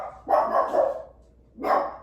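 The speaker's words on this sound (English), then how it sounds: "she's barking." A dog barks twice nearby, a sharp double bark followed after a short pause by one more.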